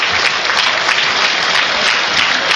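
Loud, dense applause from the Huddersfield Town football crowd for Elias Kachunga during the match against Nottingham Forest, a continuous stadium roar of clapping with no break.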